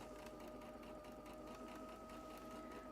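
A sewing machine hums in a continuous fast chatter, stitching down fabric on an expandable bag, steady and moderately quiet with no pauses or voices.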